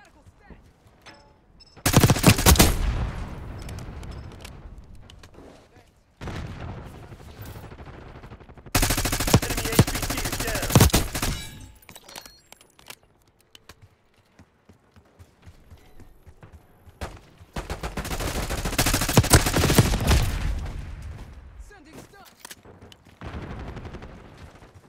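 Automatic weapon fire from an XM4 rifle in Call of Duty Black Ops 6 multiplayer, three long loud sustained bursts separated by quieter gaps, with faint game voice lines underneath.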